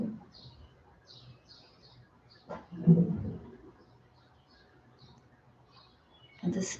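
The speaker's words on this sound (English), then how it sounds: "And the birds still sing." Birds chirp and tweet outdoors in short repeated calls at moderate distance, with a few low murmurs and soft voices underneath.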